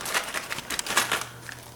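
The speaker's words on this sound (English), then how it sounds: "let's place some trap tokens here" Small plastic trap tokens for the Temple of Elemental Evil board game rattle and click as they are set down, a short burst of close, crinkly tapping.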